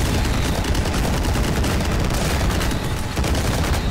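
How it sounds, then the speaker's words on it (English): A chain gun blazes away in the retro first-person shooter Ion Fury, a loud, unbroken stream of rapid-fire shots filling the whole stretch with dense, booming gunfire and no pauses. "it's really easy to never miss if you have a fucking chain gun with unlimited ammo"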